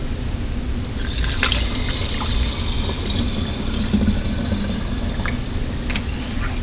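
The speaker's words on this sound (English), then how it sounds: "we're simply just going to fill the jar up with water to soak the wheat berries" Water poured through a funnel into a jar of wheat berries to soak them, a steady continuous splashing fill with a few brighter trickles, close and fairly loud throughout.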